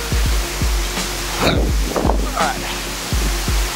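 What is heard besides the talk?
waterfall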